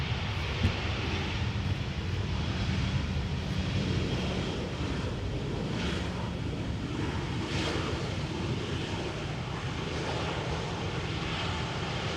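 An airplane at Amsterdam Schiphol Airport makes a continuous broadband engine roar that holds steady throughout, mixed with wind rumble on the microphone and no speech.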